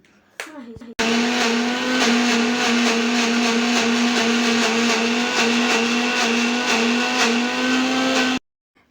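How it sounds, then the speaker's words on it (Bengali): A kitchen blender grinds ginger and green chili into a paste, its motor whirring in a loud, steady, buzzing drone for about seven seconds before cutting off abruptly; a brief voice and clatter come just before it starts. "এর মধ্যে আদা আর লঙ্কা দিয়ে ভালো করে পেস্ট তৈরি করে নিচ্ছি"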